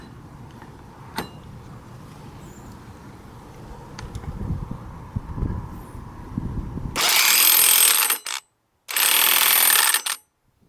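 An impact wrench tightens a nut on a scooter's CVT in two loud, harsh bursts near the end. The bursts are separated by a short silence and follow quieter clinks of tools.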